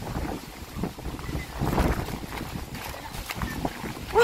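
Strong wind roars and buffets the microphone in a continuous, loud rush near a swollen river current outdoors, with a brief exclamation over it.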